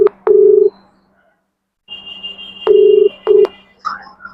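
A phone call is placed: sharp tones and a couple of clicks, then after a pause a repeating ringback tone sounds in steady pulses, loud and close.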